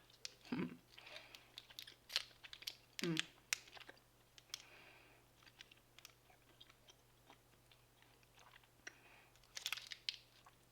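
Chiclets chewing gum from a Norwegian Arctic field ration being chewed close to the mic, with soft irregular crunches and wet clicks spread over several seconds, broken by a few quiet voiced sounds.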